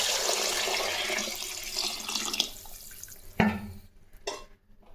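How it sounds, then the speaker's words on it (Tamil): Water poured into a pressure cooker of sautéed vegetables for sambar rice, a rushing splash that fades, followed by a sharp clank and a few short trickles. "தண்ணி சேர்த்துக்கலாம்."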